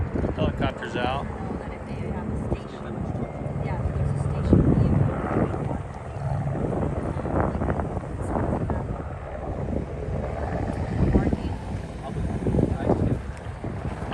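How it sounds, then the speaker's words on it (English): Police helicopter overhead at a shooting scene, a steady low rotor drone with wind buffeting across the microphone, running continuously beneath nearby voices talking. "Helicopter's out."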